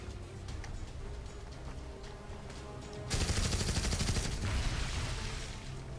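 Burst of rapid gunfire in the Dead Alliance video game, a dense crackling volley that erupts suddenly midway and holds loud for about a second before tailing into a rattling wash over background game noise.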